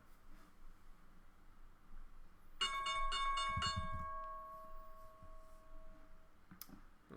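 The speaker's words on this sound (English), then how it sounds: "here's the bell" The stock market opening bell rings in a rapid cluster of bright metallic strikes, then one tone rings out and fades for a few seconds over quiet background hiss.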